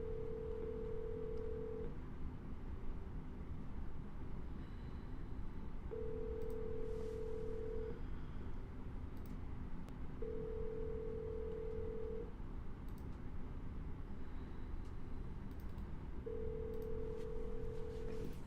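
Telephone call being placed a second time: a repeating ringback tone sounds in regular bursts of about two seconds each, four of them, over a low steady line hiss, with a few faint clicks.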